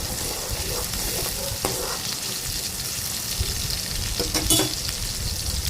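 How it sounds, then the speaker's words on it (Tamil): Onion, tomato and garlic sautéing in oil for a lentil curry, a steady close sizzle and frying hiss with occasional stirring scrapes and a few brief clinks throughout. "வெங்காயம், தக்காளி, பூண்டு எடுத்து வச்சுருக்கோம் பார்த்திங்களா, அதை போட்டு நல்லா வதக்கி விடுங்க"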